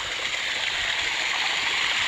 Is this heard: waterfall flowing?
yes